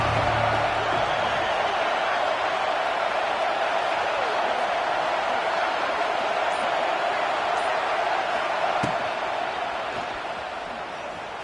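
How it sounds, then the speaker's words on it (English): Stadium crowd noise in a football video game, a steady, loud wash of cheering and roar that holds throughout and eases off slightly near the end. "This crowd ready to make its presence known."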